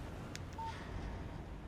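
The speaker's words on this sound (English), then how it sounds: "Text message from Barry." A short electronic phone text message alert in the video game Alan Wake, a brief tonal chirp heard alone over a steady low game background.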